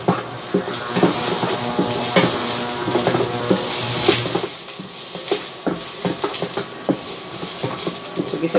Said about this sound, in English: So gisa-gisa lang tayo ng ano guys, ng bawang tsaka sibuyas tsaka luya.